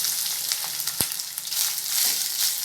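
Grated coconut, green chillies and curry leaves sauté in hot oil for coconut rice, a dense continuous close sizzle with a single soft knock of a utensil partway through, no voices.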